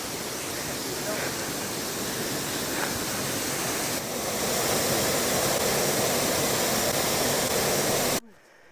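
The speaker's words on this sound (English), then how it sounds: "We just come into the waterfall." A waterfall in a Welsh woodland roars as a loud, steady broadband rush that fills the whole span and cuts off abruptly near the end.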